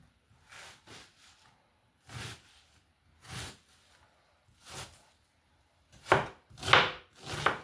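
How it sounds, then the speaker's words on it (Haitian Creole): Onions being chopped with a knife for a Haitian macaroni gratin: a series of crisp, close knife strikes on a board, spaced irregularly at first, then quicker and louder near the end, with no voices. "On hache les oignons."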